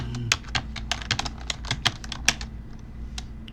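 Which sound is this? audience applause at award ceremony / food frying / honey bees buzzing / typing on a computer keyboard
typing on a computer keyboard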